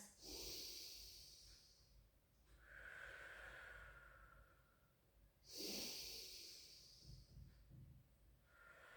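Slow, deep breathing during a Pilates exercise: two long, noisy inhales each followed by a long exhale, close and clear, with no talking.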